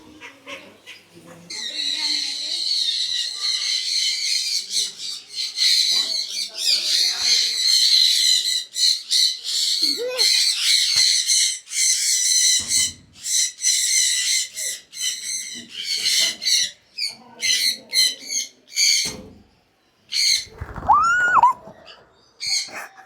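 Parrots and other pet-shop birds screech and squawk loudly and continuously in a Kannur pet shop, nearby and overlapping, with occasional sharp calls and brief talk in between.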